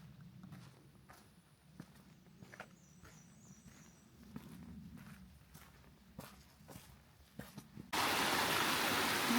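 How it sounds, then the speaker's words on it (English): Footsteps crunch along a trail near the parking lot of Black Rock Mountain State Park, then a stream flowing down toward Black Rock Lake rushes up loud and close in the final seconds. "So this water, really pretty, I love the sound of it, flows down into the Black Rock Lake."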